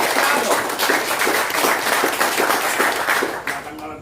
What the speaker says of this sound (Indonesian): Tepuk tangan dulu Kia.